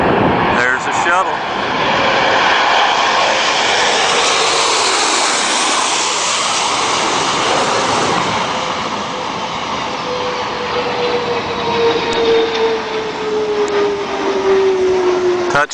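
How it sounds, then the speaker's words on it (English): Space Shuttle Atlantis rolling out on runway 33 at Kennedy Space Center, a loud roaring jet-like rush that swells and slowly fades with a descending whine, while a commentator talks over it. "Atlantis now rolling out on runway 33 at Kennedy Space Center"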